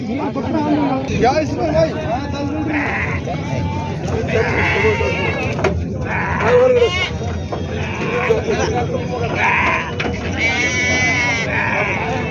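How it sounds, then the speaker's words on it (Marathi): Several Kathewadi goats bleat repeatedly, close by, over a busy background of crowd chatter and voices at the outdoor goat market in Vasmat, India. "आज बाजारमध्ये काठेवाडी शेळी आलेली आहे"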